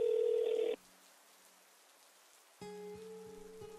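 Old phone being dialed in a Minecraft roleplay game: a loud steady tone cuts off after a moment, then after a quiet pause a new layered ringing or dial tone starts and holds, with no talk.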